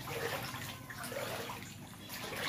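Rising high-tide floodwater in Taliptip, Bulakan, Bulacan, creeping toward a house: a steady, broadband watery wash and churn, continuous and fairly close, with no voices.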